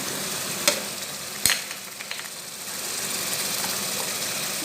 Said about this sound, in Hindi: साथ साथ लहसुन की बुनाई हो जाएगी।